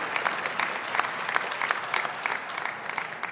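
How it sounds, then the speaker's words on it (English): Outdoor crowd clapping at a Christmas tree lighting in Pennsylvania, a steady patter of many hands at moderate distance, sustained throughout. "you can clap for Carbon County or its height or whatever"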